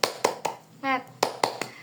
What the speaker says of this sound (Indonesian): Kita tepuk semangat dulu seperti ini ya.